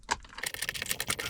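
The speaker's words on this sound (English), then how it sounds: "now we're just plugging stuff back in." Electrical connectors being plugged back in during a Toyota Land Cruiser 100 Series shifter trim plate install: a quick run of small plastic clicks and taps close by, with no talking.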